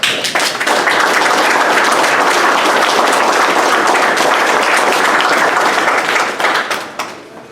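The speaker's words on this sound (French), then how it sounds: "Je pense qu'ils méritent des tonnes d'applaudissements." Dense, loud applause from a crowd fills the space, a sustained wash of clapping that fades out near the end.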